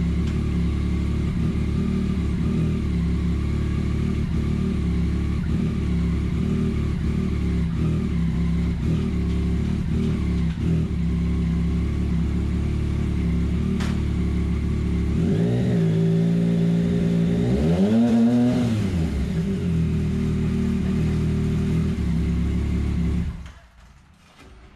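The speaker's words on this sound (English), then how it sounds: "we're gonna turn the bike on, we're gonna shift all the way up into sixth gear, and we're gonna try to shift past sixth gear" A Yamaha MT/FZ-09 motorcycle fitted with an Annitori Quickshifter Pro 2 idles loudly, then revs and climbs through quick up-shifts with rising and falling engine pitch before cutting off abruptly near the end.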